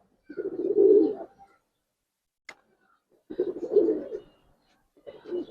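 Low, throaty cooing from a female Giribaz pigeon comes in three rounded bursts separated by pauses, with a small sharp tick between the first two; the last burst is cut off.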